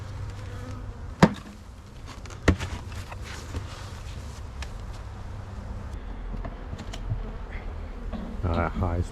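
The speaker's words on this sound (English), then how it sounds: "Look at all those bees." A hive full of honeybees gives off a continuous close buzzing hum, broken by a couple of sharp knocks near the start and faint background clatter.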